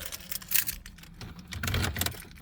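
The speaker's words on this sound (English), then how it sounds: "Put my keys in" Keys go into the ignition of a 2022 Ford F-150, giving a few close, sharp metallic clicks and jingles in two short bursts inside the cab.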